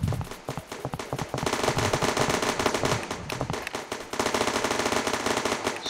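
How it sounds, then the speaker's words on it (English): Gunfire effects from a Unity 3D mobile shooter game, rapid automatic bursts of dense, cracking shots in quick succession, loud and continuous with short breaks between volleys. "now if they try to shoot on the player AIs, you can notice the sounds"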